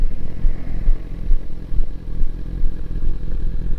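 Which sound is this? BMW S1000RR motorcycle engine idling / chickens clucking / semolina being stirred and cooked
BMW S1000RR motorcycle engine idling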